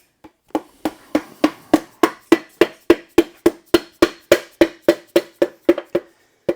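Steady series of sharp hammer taps on metal as piston rings are tapped into an engine cylinder, about twenty evenly spaced knocks at a brisk rhythm, close and loud with no talking.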